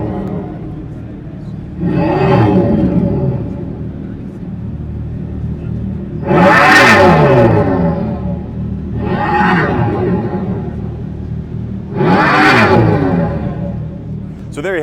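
A Dodge concept muscle car at the SEMA show revs its exhaust in four loud, rising and falling bursts over a steady idle rumble, close by.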